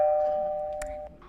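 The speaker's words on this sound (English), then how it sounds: "before they even ring the doorbell" A single electronic doorbell chime rings indoors during a stage play, a steady held tone that fades over about a second with faint background noise.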